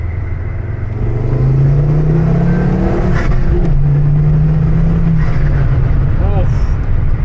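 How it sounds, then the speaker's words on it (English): A turbocharged Ford Focus ST accelerates hard in second gear, its engine note climbing steadily as it revs up loud and close, with brief changes partway through, heard from inside the car with people talking over it. "Second gear pull."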